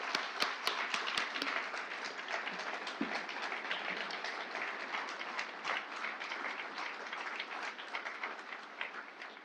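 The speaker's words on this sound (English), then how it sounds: "Please join me in a round of applause to Professor Craig Shriver" Steady applause from a sizable audience at an award ceremony, dense clapping that carries on evenly for the whole stretch with no voices on top.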